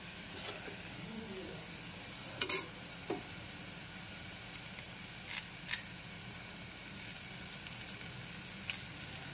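Spices for pepper rasam frying lightly in oil, a quiet, steady sizzle with a few sharp clicks and taps of a spoon against the pan scattered through it.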